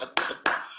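Two sharp hand claps, about a third of a second apart, each with a short ringing room tail, in the middle of a talk on worship.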